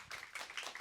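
Brief, faint scattered clapping from an audience welcoming guests onto a stage at a Korean arts education event, a few sparse claps with no voices.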